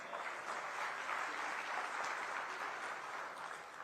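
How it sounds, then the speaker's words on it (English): Steady round of applause from an audience at a joint business session between India's Ministry of External Affairs and the state of Odisha, dense clapping held at an even level throughout with no voices. "Can we have a round of applause, please?"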